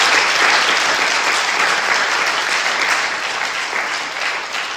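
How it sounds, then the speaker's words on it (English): Dense, loud applause from a crowd at a political speech rally in Blue Springs, sustained steadily and easing slightly toward the end, with no voices over it. "Give yourselves a round of applause if you say that."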